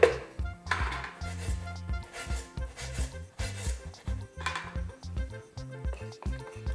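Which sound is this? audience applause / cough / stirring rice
stirring rice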